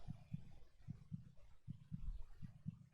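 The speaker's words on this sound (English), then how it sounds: "I can hear a heartbeat right now." Heartbeat in the horror cooking game Cooking Companions, a faint, muffled, low double-thump pulse repeating steadily about every 0.8 seconds over a dim droning background.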